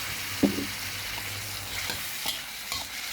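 Pork pieces stir-frying with chili and garlic for a holy basil stir-fry: a continuous close sizzle with a sharp spatula clack near the start and several lighter scrapes spaced through the rest.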